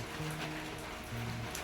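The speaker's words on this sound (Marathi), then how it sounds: "लागला आता कमी पाऊस व्हायला" Steady rain falls across a surface, a continuous broadband patter with a low hum running underneath.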